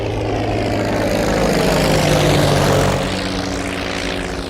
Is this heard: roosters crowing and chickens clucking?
no